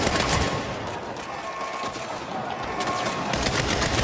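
Gunfire in the video game Saints Row during a shootout escape from a prison, a dense, continuous rattle of rapid shots and bursts filling the whole stretch, loud and steady with no pauses.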